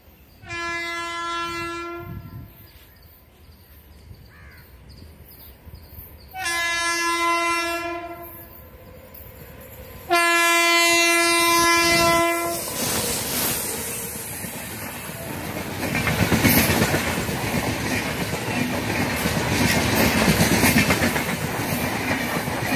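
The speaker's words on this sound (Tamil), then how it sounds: "இப்போ நம்ம தேஜாஸ் எக்ஸ்பிரஸ் வந்துட்டுருக்குது" A train horn sounds three long blasts, then the Tejas Express passenger train roars and clatters past nearby, the rumble building and holding loud.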